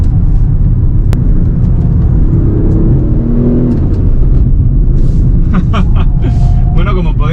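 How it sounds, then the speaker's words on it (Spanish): Audi A5/S5 Sportback V6 diesel of 347 hp, 2023 model, heard from inside the cabin: a steady low engine drone with a brief rising note midway, continuous and fairly loud, with voices over it toward the end. "el sonido de este V6 diésel también es bastante deportivo, por lo menos en el interior del coche"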